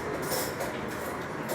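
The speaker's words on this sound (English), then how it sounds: "I'm trying to film all these trains" Train rumbling past close by on a line on the way to Tehachapi, a steady broadband roar with faint wheel clatter and a brief hiss, continuous for the whole moment without speech.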